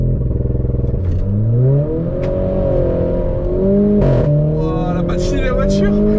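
A Renault Clio 4 RS holds high revs under launch control, then surges off as the engine pitch climbs through the gears, loud and close from inside the car, with people talking over it.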